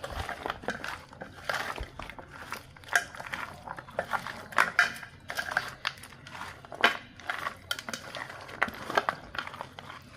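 River prawns being mixed with salt and chili powder by hand in a bowl, giving a steady run of close, wet squelching and crunching with light clinks against the bowl, with no talk.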